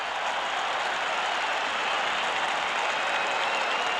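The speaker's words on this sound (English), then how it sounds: "This crowd is really raising the roof of the dome." A basketball arena crowd at a college game inside a dome, with steady loud cheering and applause filling the space as a broad, unbroken roar.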